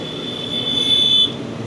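Gujarat Superfast Express slowing into Nadiad Junction, heard from inside an AC chair car as a steady rumble of the rail carriage with a thin high wheel squeal rising briefly in the middle.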